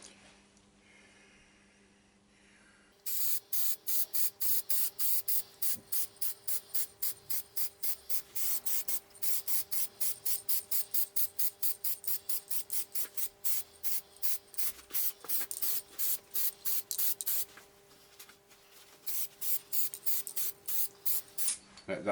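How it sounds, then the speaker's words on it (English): A spray can lays satin black paint onto a turned wooden bowl in a long run of quick, rhythmic hissing bursts, close and steady, after a few seconds of quiet. "now I'm just going to spray it black. Fine coats, build it up slowly."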